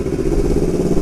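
A Yamaha R25 motorcycle fitted with a Proliner short full-system exhaust, running with a loud, steady, throaty drone close by, no voices over it.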